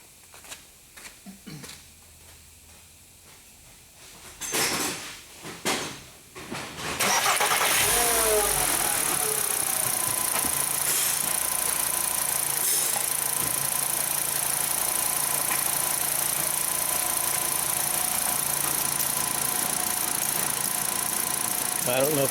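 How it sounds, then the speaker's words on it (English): VW car with a fuel fault and a vacuum solenoid being checked: a few clicks and a cranking start, then the engine catches and settles into a steady, loud idle up close, with talk in the background. "And we'll start the engine and see if we can make that solenoid work."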